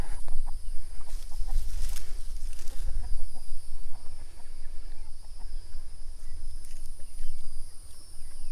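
Chickens cluck close by while being fed beans, with busy, overlapping clucks over a steady outdoor background, a little denser at the start.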